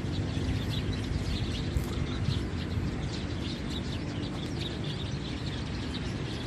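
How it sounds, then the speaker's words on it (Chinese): Sparrows chirp among fruit-bearing tree branches in Tainan, with thin, scattered high tweets all through a dense, steady wash of background noise. "叽叽喳喳的叫，有没有听到？"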